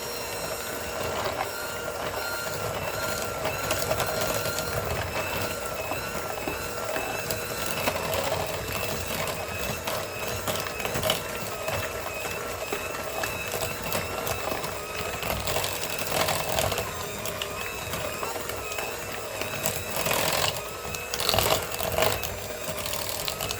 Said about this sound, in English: And then we're just going to mix it up and see what we think.